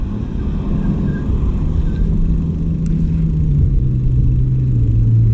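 Road traffic on a hill produces a continuous low engine rumble, as a vehicle drones past nearby and its tone slowly rises.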